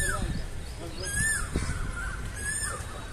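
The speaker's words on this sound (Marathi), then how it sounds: "हे झाड आणि पक्ष्यांचा आवाज" Birds call from trees at a historic fort site, with crow-like caws and chirps repeating over a background murmur of people talking.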